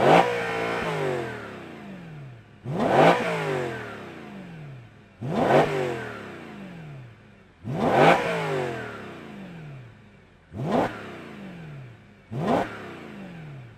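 A BMW E92 M3 Competition V8 revs repeatedly through its exhaust, with six sharp, loud throttle blips, each rising and falling away, spaced a couple of seconds apart and heard close up with no talking.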